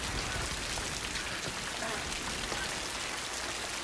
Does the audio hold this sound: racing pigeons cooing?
no